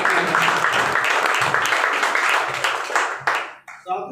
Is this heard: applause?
yes